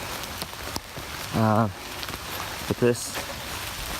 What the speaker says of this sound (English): The rain is picking up again,